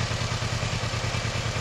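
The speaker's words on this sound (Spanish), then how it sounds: "hemos arrancado esta Kawasaki Versys 650." A Kawasaki Versys 650 motorcycle, its front end damaged, runs steadily with a close, loud, even engine throb and mechanical clatter throughout.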